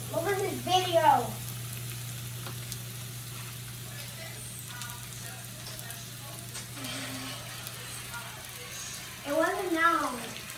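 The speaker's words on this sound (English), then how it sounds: "Oh, hear that sizzle." A steady, quiet sizzle of mushrooms frying in a pan runs throughout, with brief bursts of nearby talking at the start and end.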